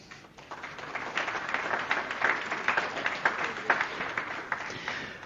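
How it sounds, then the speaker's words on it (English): A round of applause from the audience at the Dubrovnik Forum 2023, a political conference hall, with steady clapping that builds and holds over several seconds at moderate volume. "And a round of applause,"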